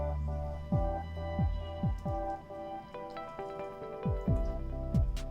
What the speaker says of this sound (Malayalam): ഇനി നമുക്കിതിലേക്ക് 1/2 കപ്പ് പാലൂടെ ചേർത്ത് കൊടുക്കാം.